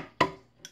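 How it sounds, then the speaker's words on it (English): An egg cracked on a wooden board while making flourless peanut butter cookies: one sharp close knock followed shortly by a faint small crackle. "Do the egg. Crack it on the wood here."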